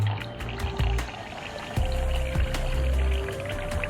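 Coconut water being poured out by hand, a liquid gurgle and splash in short uneven bursts, close and moderately loud, with a faint tonal hum beneath.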